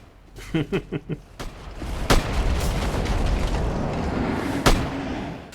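A burst of rapid thuds leads into a loud explosion in Dark Souls 3, at the High Wall of Lothric, with a long rumbling roar, punctuated by sharp cracks, heard close.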